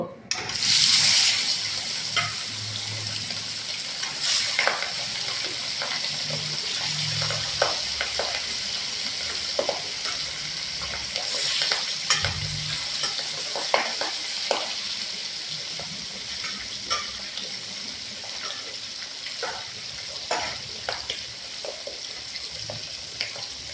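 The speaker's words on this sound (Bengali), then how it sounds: "এতে এতে সব মাছ ভেজে নিব।" Rupchanda (pomfret) fish frying in oil makes a steady, close sizzle with crackling pops and occasional utensil scrapes running for the whole stretch.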